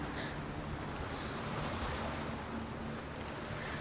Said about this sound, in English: Waves crashing on the shore.